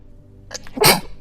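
One sharp, close sneeze with a brief catch of breath just before it, loud and abrupt against a quiet background.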